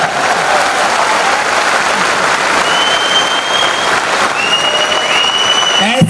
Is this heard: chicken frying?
no